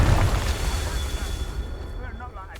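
A Confringo blasting spell in Hogwarts Legacy lands as a low, heavy boom at the start, then rumbles and decays over the next couple of seconds.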